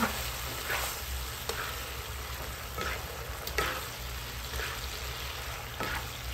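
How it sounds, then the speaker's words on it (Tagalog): Squid adobo with squid ink is stirred in a sizzling pan. The quiet, steady fry is broken by several soft scraping strokes of the spoon at a regular pace. "Ilagay na rin natin yung ating ink. Haluin natin."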